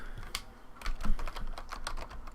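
Computer keyboard being typed on while a folder name is entered, a quick run of crisp, irregular key clicks close to the microphone with no talking.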